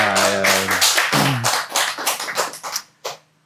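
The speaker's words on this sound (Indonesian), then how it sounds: "Tepuk tangan dulu buat Mas Rendra." Audience hand clapping on an Indonesian talk show, loud sharp claps building into a burst of applause that tapers off with a few scattered final claps, with a brief hum of voices at the start.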